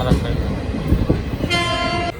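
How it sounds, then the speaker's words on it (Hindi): Nangal Dam–Kolkata Gurumukhi superfast express train rolling along at speed, loud steady rumble with wheel clatter, then a long sustained horn blast partway through. "12 घंटे हो गए हमारी ट्रेन को चलते हुए"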